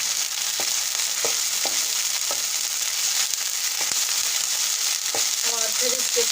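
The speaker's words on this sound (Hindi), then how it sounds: "अब ये लहसुन अदरक का पेस्ट ये 1 चम्मच डाल देंगे।" Ginger-garlic paste fries in a pan of oil for a Peshawari omelette, giving a continuous sizzle punctuated by a few sharp scraping stirs and clinks, with no one speaking.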